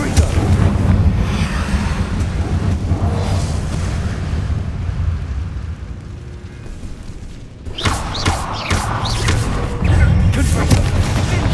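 Confringo fire-blast spells in Hogwarts Legacy, a sequence of heavy booming explosions with rumbling low end and crackle, loud and close, a brief lull then renewed blasts.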